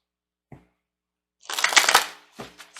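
A deck of tarot and animal cards is shuffled: one brief tap, then a dense riffling burst, followed by a shorter shuffle, all close and clear with no talking.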